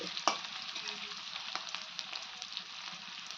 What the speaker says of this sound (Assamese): অলপমান ভাজি লওক, ৰঙা হৈ লওক।